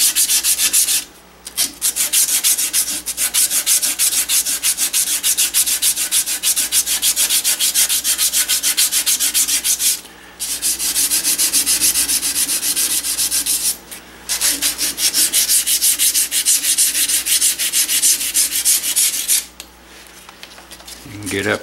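A gun barrel being polished with a duct-tape-backed strop, a loud, continuous close-up rubbing in long runs broken by a few short pauses.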